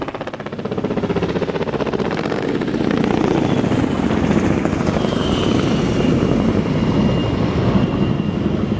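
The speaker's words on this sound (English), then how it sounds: "We have a representative helicopter-borne force here, 3 CH-46 C-9 helicopters" Steady, loud rotor thrum of three CH-46 military transport helicopters passing overhead, a continuous deep chopping roar with turbine whine that swells slightly partway through.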